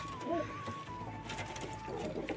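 Pigeons coo softly in a roost or coop, a few low murmuring calls over a steady background hum and faint mechanical noise.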